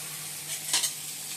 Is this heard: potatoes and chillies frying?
yes